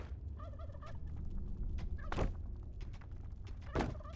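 A turkey gobbles in the dungeon-building video game Dungeons 4, a loud warbling burst of rapid throaty notes followed by dull thunks, with no talking.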